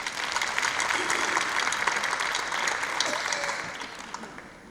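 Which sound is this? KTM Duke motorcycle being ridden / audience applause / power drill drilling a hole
audience applause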